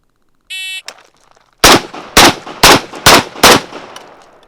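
Five rifle shots fired while walking backwards on a range, loud sharp cracks evenly spaced about half a second apart, following a brief electronic shot-timer beep, no talk.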